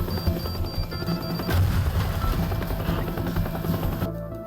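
A helicopter in Teardown thrums steadily with a constant rotor drone throughout, loud and close, with faint tones and clatter underneath.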